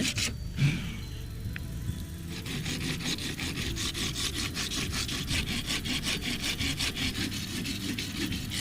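Carved wood is rubbed and smoothed by hand in steady, rhythmic back-and-forth strokes. The rasping scrape repeats evenly and sits close and moderately loud throughout.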